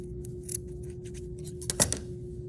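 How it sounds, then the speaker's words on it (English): Scissors trimming loose yarn ends on a cardboard weaving loom, a few small crisp snips close by, the clearest pair near the end over a faint steady hum. "Then I'm going to trim the extra strings."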